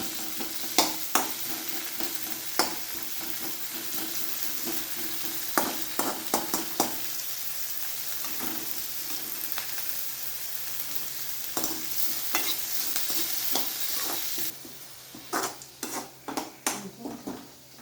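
Onions sautéing in a pan until soft, a continuous close sizzle with frequent sharp scrapes and clinks of a spatula against the metal, growing busier near the end, with no talk.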